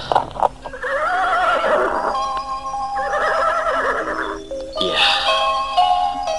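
A horse whinnies loudly and close, a long, shaky neigh followed by a second and a third, with clip-clopping hooves at the start and no voices.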